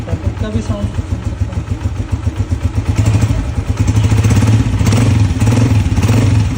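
A Honda 125 motorcycle idles up close, its tappets ticking in a fast even clatter under the steady engine thrum, swelling slightly louder midway as someone speaks over it.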